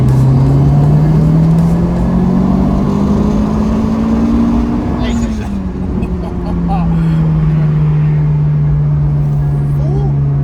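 A Ford Puma car accelerates hard in third gear, its engine note climbing loudly and steadily, dipping briefly around halfway, then droning on at high revs, with people talking over it.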